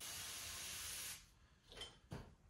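A steady, close hiss of primer sprayed into the carburetor of a Honda 50 Super Cub runs for about a second, then stops, followed by two short, fainter puffs.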